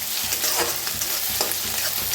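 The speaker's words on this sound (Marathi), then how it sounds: "छान कांदा भाजून घेऊया।" Onion frying in a pan for a vegetable dish, a steady close sizzle with scraping stir strokes throughout, no talking.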